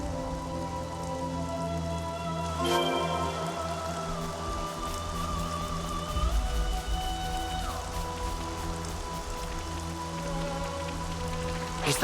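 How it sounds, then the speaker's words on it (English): Steady rain patters on surfaces in Xenoblade Chronicles 3, soft and continuous, with a faint tonal hum and a few brief chimes, no talking. "Rain, a blessing."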